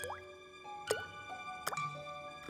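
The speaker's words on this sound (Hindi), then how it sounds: "ये बस पानी के बूंदे हैं।" Water drops dripping at an irregular pace, a few distinct plinks with a short falling pitch each, clear and close in a quiet animated scene.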